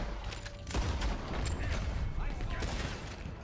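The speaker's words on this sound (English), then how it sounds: "Oh, Gatling gun." Gatling gun fire in Red Dead Redemption 2, set around a Saint Denis bank robbery: dense, continuous rapid shooting with scattered sharp cracks, fairly close, mixed with other game noise and voices.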